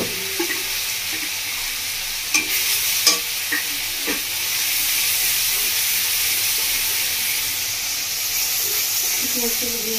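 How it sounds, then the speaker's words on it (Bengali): Ground onion paste frying in a pan for rohu posto, with a continuous hissing sizzle and scraping stir strokes throughout, close and fairly loud. "পেঁয়াজটাকে দিয়ে দিচ্ছি, নাড়াচাড়া করে দিচ্ছি। বন্ধুরা, পেঁয়াজটা ভেজে নিচ্ছি।"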